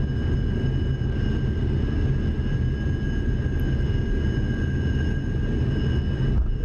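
An SR-71 jet in the DCS flight simulator landing on a short runway, a steady loud engine roar and rumble with a thin high whine, unbroken and without talk.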